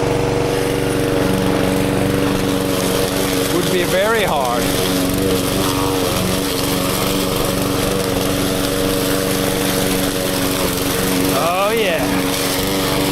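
Lawn mower engine drones loudly and steadily while cutting thick grass, a constant close motor hum with a voice speaking briefly over it.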